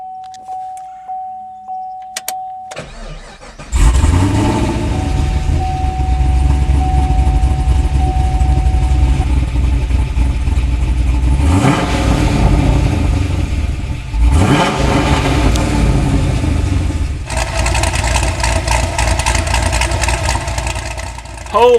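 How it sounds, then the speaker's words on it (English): A Tom Henry Racing Camaro with upgraded cam, heads and exhaust cranks and fires up, settling into a loud rumbling idle with several throttle blips and revs, sharp rises and falls in pitch, and some talk beneath it. "what we really like is the sound it makes when you start it up"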